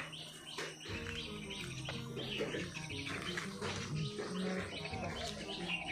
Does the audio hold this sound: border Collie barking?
no